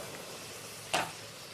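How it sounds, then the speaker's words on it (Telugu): A gentle, steady sizzle of coriander chutney ingredients frying on a low flame, with one brief louder scrape or stir in the middle. "వేపేసి చిన్న మంట పెట్టి వేపాలండి"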